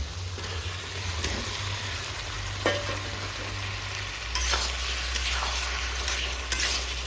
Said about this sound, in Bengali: তেল ছেড়ে দিয়েছে এবার আমি ভেজে রাখা পেঁপে আর আলু দিয়ে দেবো